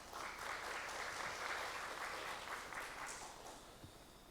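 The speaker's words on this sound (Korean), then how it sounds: "큰 박수로 맞이해 주시기 바랍니다" An audience at a public-institution innovation awards and presentation event gives a sustained round of applause, an even wash of clapping that is faint and distant and tapers slightly toward the end.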